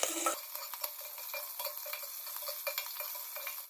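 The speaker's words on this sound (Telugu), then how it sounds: "ఇప్పుడు కొంచెం ఫ్రై చేయాలి." Ginger and green chillies sizzle steadily in hot oil in a pan alongside curry leaves, a continuous close hiss with occasional crackles and light stirring clicks, no voices.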